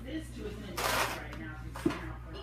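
Stacks of board game cards are handled and riffled out of a box in close, papery rustling bursts, with a voice faintly present.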